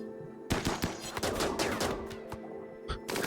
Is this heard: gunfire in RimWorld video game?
yes